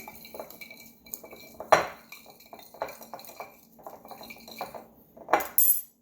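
Red pepper flakes being stirred into food in a dish, with repeated close clinks and scrapes of a utensil against the dish, irregular taps and a louder knock near the end.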